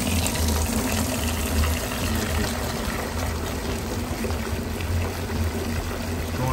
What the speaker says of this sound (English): So I'm gonna dump this over here to relieve some from the top.